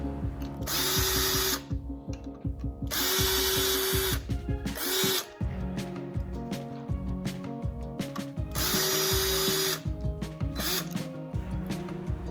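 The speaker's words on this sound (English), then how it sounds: "So you'll notice that I am removing these bolts in a crisscross pattern" A power tool spinning out clutch plate bolts on a Honda CRF 450 engine during bottom end disassembly, repeated loud ratcheting whirs in bursts of one to two seconds separated by short pauses, no talking.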